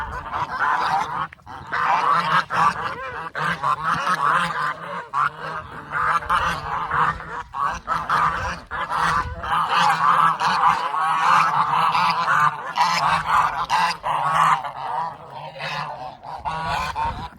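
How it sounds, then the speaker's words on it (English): A flock of geese or ducks honking continuously and loudly nearby, overlapping calls in a busy, irregular chorus outdoors. "I don't know if these are gooses or ducks"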